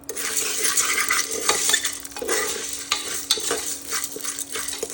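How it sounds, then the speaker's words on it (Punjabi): Popcorn kernels are stirred through hot oil in a pan, giving a continuous close scraping and sizzling with small clinks of a utensil against the metal. "1/2 ਬੋਲ ਮੱਕੀ ਦੇ ਦਾਣੇ ਲਏ ਆ ਇਹਨਾਂ ਨੂੰ ਵਿੱਚ ਪਾ ਕੇ ਤੇਲ ਦੇ ਨਾਲ ਚੰਗੀ ਤਰ੍ਹਾਂ ਮਿਕਸ ਕਰਾਂਗੇ"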